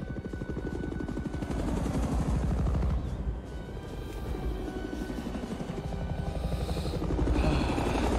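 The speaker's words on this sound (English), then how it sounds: "They're expecting transports, not gunships." Helicopter gunships from the film Die Hard thunder close overhead, a loud continuous rotor chop that swells and fades across the scene, with no voices heard.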